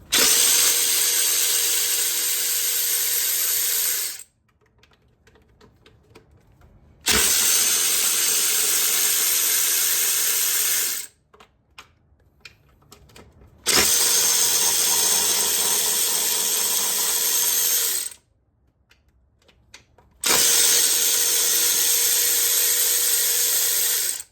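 Power tool on a 2015 Toyota Tacoma backing out 8 mm Allen bolts, sounding in four loud, steady whirring bursts of about four seconds each, with quiet pauses and faint handling clatter between them.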